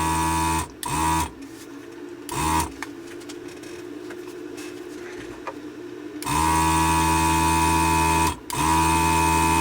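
An electric desoldering pump runs with a steady loud mechanical drone, its motor cutting out briefly a few times before resuming, while it fails to suck up solder.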